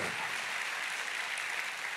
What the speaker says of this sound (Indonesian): Kasih tepuk tangan dulu yang paling meriah buat Tuhan.